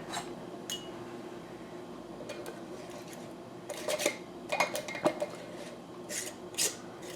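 Metal canning lids set onto glass jars of raw bone-in, skin-on chicken drumsticks, giving a few scattered light clinks and scrapes near the mic over a quiet kitchen background, with no talking.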